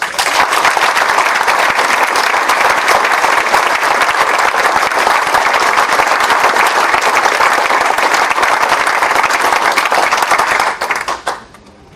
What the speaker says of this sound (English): So, one more round of applause for Joe, please.